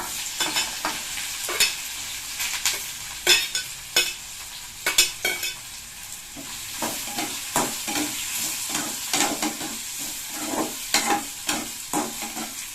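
Lentils and onion fry in a pan over low heat for a drumstick-leaf egg poriyal, with a continuous sizzle broken by frequent rhythmic stirring scrapes and clicks of a spoon.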